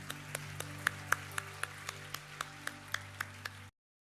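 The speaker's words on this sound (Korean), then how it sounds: "우리 하나님께 감사의 박수를 드리겠습니다." A congregation at a church service claps in thanks, heard as a slow, regular series of about a dozen distinct, fairly faint claps over a low hum, ending abruptly.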